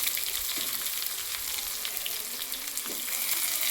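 Onion frying in hot tempering oil with dried red chillies, a steady close-up sizzle with light stirring scrapes throughout, alone without talk.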